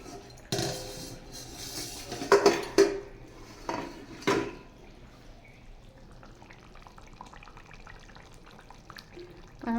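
Leftover water from boiling mutton goes into a curry pot: a few clattering knocks of a pot and utensils near the start, then a soft, steady pour and splash trailing off quietly, with no talking.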